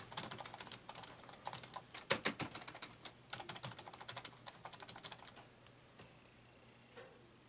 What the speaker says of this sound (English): I'm just going to keep pressing buttons until I figure it out